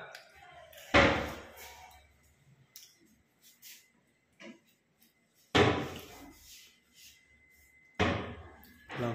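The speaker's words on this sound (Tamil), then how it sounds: "அந்த கதவு மூடுங்க." A door is shut in a paint and polish workshop: three loud banging impacts, each followed by a short rattle, separated by quieter stretches with small knocks and faint voices.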